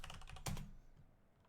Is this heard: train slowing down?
no